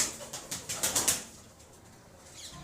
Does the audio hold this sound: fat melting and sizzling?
no